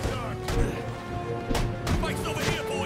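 Gunshots from the video game Batman: Arkham Origins, with several sharp broadband bursts over a busy, continuous game soundtrack.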